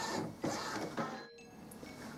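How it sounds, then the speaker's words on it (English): An Epson Stylus DX6000 printer running a printhead cleaning cycle, giving quiet mechanical whirring with a few soft clunks and clicks, faint and close, no talking. "it'll start making some clunking and whirring sounds"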